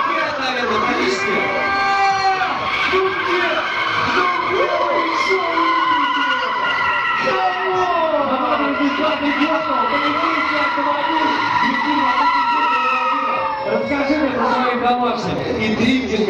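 Car drifting across a festival lot at a motorcycle festival, with long, loud, continuous tire skid and squeal over a steady engine drone, sustained for most of the stretch with varying pitch.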